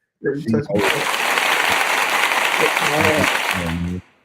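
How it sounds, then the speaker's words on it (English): Applause from a studio audience on a talk show, a dense burst of clapping lasting a few seconds, with brief talk at the start and more voices near the end. "Go give her a round of applause"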